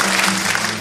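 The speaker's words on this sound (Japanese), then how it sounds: "温かいご同情の拍手をありがとうございます。" Audience applause during a live Japanese folk song performance, a brief, steady wash of clapping in a hall.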